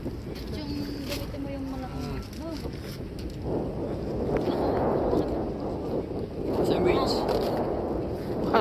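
Strong wind roars and buffets the microphone in surging gusts during a heavy rainstorm while fishing, with people talking over it near the start.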